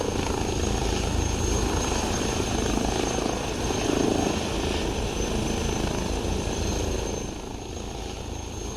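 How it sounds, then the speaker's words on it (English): A steady H160 helicopter engine and rotor drone in a flight simulator, loud and continuous, easing off slightly near the end. "The sounds are really good coming out of this helicopter."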